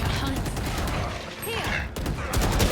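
Bursts of rapid gunfire from the video game Valorant crackle loudly and nearly nonstop, mixed with game effects, while players talk over the shooting.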